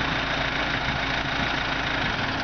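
A truck engine idles steadily at close range with a constant low rumble, no speech over it, just before it is shut off.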